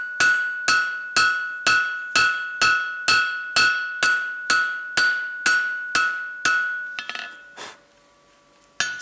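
A hammer strikes hot metal on an anvil in a steady rhythm, about a dozen loud ringing clangs, then a pause and a few lighter taps.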